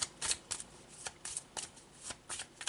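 Tarot cards shuffled in quick, crisp bursts of riffling, about a dozen short flurries spaced irregularly, close and fairly quiet with no talk.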